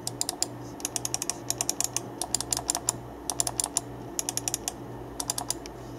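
Light, quiet clicks from the Omron switches under the buttons of a gaming mouse, many sharp taps coming in quick bursts and clusters, close up and clear over a low steady hum.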